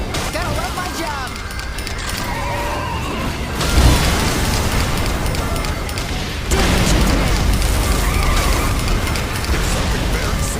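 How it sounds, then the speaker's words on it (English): Explosions and cries in the open-world action game Saints Row The Third, a dense, loud mix of booms and mechanical clatter that jumps louder twice, with game dialogue running underneath. "How are ears-splitting explosions and screams of agony soothing, Bobby?"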